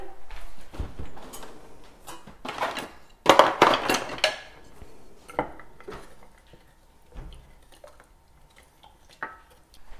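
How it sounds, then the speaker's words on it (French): Chocolate being stirred by hand in a bowl so it doesn't stick: irregular clinks and scrapes of a utensil against the container, busiest in the middle and then sparse. "Je vais vite fait mélanger mon chocolat pour ne pas qu'il colle."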